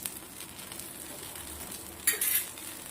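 A dosa crisps on a hot griddle as peanut oil is drizzled over it, giving a steady low sizzle that flares into a brighter, louder hiss near the end; no one speaks.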